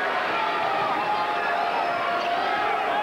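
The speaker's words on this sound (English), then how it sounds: "Brings the crowd to its feet." Basketball crowd at an Eastern Illinois vs Morehead State college game rising to its feet, a dense, steady roar of cheering and shouting that fills the arena continuously without letting up.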